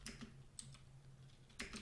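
Soft keystrokes on a computer keyboard, a few scattered taps with a short quick cluster near the end, close and quiet against low background hum.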